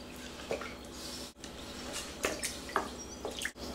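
Water poured with salt into sifted rye flour for rustic bread dough, heard as soft, scattered drips and small splashes close by, with a few sharper taps and no talking.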